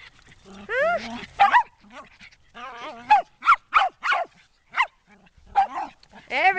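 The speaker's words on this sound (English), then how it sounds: "Everybody's barking." Several dogs bark and yip in quick bursts, high-pitched and close, with some whimpering tones between the barks.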